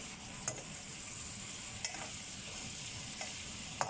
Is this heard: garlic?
yes